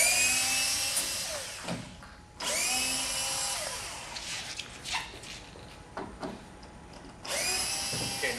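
A power drill backs leg screws out of a shipping box holding a CrystalBlast 3624, whirring in three loud, close bursts of a couple of seconds each, with short pauses and light handling noise between them.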